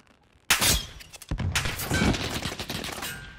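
Gunfire from the Call of Duty: Modern Warfare video game erupts suddenly in a loud, dense burst of rapid shots, continuing as a sustained barrage of cracks and thuds that never lets up.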